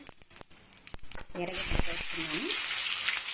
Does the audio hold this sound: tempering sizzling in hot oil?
yes